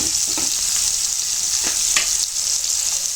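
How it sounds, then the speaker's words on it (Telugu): Pieces of fish frying in hot oil in a Telangana-style fish fry, with a steady dense crackling sizzle that runs throughout, broken by a few soft clinks and scrapes as the pan is swirled. "ఎందుకంటే ముక్కలు వేగాలి కదా ఫ్రై కాబట్టి దాని గురించి ఇలా తిప్పుకోవాలి"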